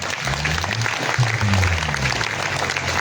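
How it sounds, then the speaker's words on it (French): Church congregation at an evening praise service bursting into steady, dense applause and cheering, loud and close, with a few voices mixed in. "Est-ce qu'on peut acclamer le Seigneur?"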